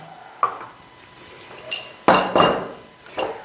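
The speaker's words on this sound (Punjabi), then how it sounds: "ਹੁਣ ਅੱਜ ਆਪਾਂ ਬਰਫ ਪਾ ਲਈਏ ਥੋੜੀ ਜੀ ਪਾਓ ਜੀ ਪਾਓ ਹੋਰ ਠੰਡੀ ਕਰ ਲਈਏ" Ice dropped into a container of homemade sugarcane-style juice made without sugarcane, giving a few sharp clinks and clatters, one louder burst in the middle, close and with no talk.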